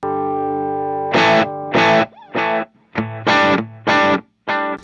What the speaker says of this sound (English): That's an echo there.